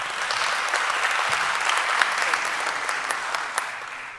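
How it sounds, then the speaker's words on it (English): Warm audience applause at the opening ceremony for guest speaker Sajjad Haider Karim, a steady dense clapping from a sizeable crowd that holds at an even level throughout, with a few sharper individual claps standing out near the end. "With your warm applause, Mr. Sajjad Haider Karim."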